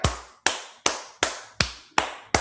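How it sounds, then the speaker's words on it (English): Six evenly spaced sharp claps, each ringing briefly before the next, close and isolated with no talk, during a podcast conversation. "Are you hearing applause? Yes, you're hearing applause."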